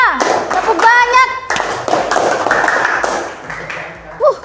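A school class claps in quick rhythmic patterns of single, double and flurried hand claps, close and loud, while children and a teacher chant along.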